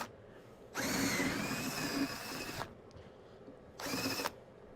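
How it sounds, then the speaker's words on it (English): A power drill spins against a pumpkin to loosen its seeds, running in one long whining burst of about two seconds, then a shorter one after a pause, close and loud over a quiet outdoor farm background. "drill is not quite doing what I want it to"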